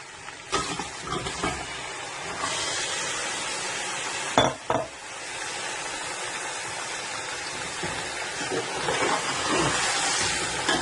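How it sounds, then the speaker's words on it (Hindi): Chicken added to browned ginger and garlic for biryani sizzles loudly in the pan, a dense continuous frying hiss with scattered stirring scrapes and a couple of clattering knocks near the middle. "अब हम इसमें चिकन डाल देते हैं"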